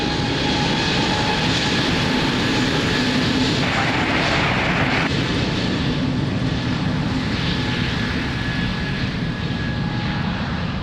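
An airliner takes off from runway 02 at Lisbon Airport, a loud sustained engine roar that stays strong and broad throughout, heard at fairly close range with no talking.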